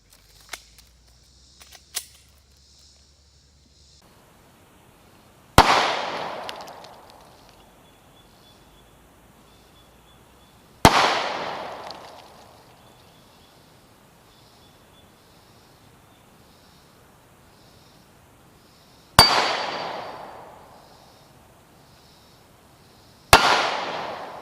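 A Smith & Wesson M&P pistol fires loud, sharp, single outdoor shots several seconds apart. Each crack rings out with a short decaying echo, with near silence in between.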